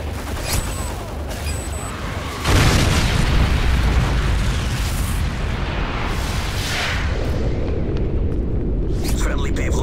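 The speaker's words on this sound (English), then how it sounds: "Friendly MOAB incoming." A massive MOAB bomb detonates in Modern Warfare 3 multiplayer, a sudden deep roaring blast that stays loud and rumbling for several seconds, preceded by gunfire and a voice announcement.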